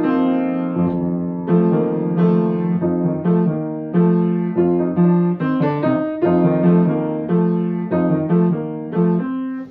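Second accompaniment idea for a choral piece: rhythmic repeated chords on a piano-like instrument, close and steady, in short pulsing phrases with regular accents, no singing or talk.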